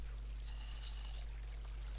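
Water flowing in a blocky survival video game, a short steady pouring trickle heard close, with no voices.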